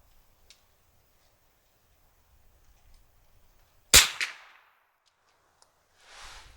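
A single sharp rifle shot cracks out at the Walnut Hill outdoor range, loud and sudden after near silence, followed by a brief echo and a quieter rustle afterward.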